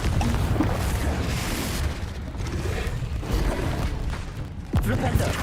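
A Confringo blasting spell goes off in Hogwarts Legacy, with dense booming bursts and crackling impacts, a sharp sweep near the end, and game effects layered throughout.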